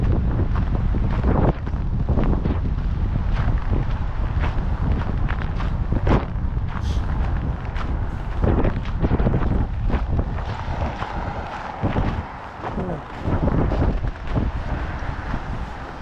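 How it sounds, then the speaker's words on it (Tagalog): Strong wind in Canada roars and buffets continuously for a long stretch, with gusty rumbling and occasional knocks, no talking. "Balik na tayo dahil malakas ang hangin,"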